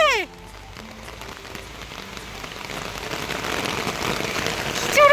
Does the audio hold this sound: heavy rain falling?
yes